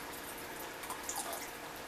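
Pure water is poured from a container into a measuring cup, making a continuous close splashing and trickling with a slight rise near the end, and no one talks.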